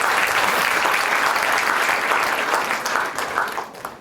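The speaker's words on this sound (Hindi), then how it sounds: "ऐसे शीलभद्र विधिवेत्ता को हम तालियों से करकल ध्वनि से फिर से सुनाएं।" An audience at a university lecture-series event applauds to honour a distinguished judge, a dense, steady clapping from a sizeable crowd that holds strong and then begins to thin and fade toward the end.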